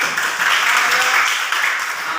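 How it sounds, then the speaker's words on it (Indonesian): A classroom group claps together in a steady burst of applause, loud and close, lasting a couple of seconds. "tepuk tangan dulu"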